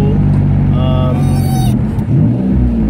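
A car engine fitted with solid motor mounts revs loudly and close, a heavy low rumble with a brief rising whine that peaks and settles back into a steady drone.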